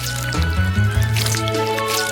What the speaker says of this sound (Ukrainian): Наливаємо в склянку та можна подавати